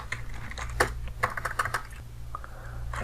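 A Kali Linux password typed on a computer keyboard: a short burst of close, crisp key clicks in an uneven rhythm over a low steady hum, with no talking.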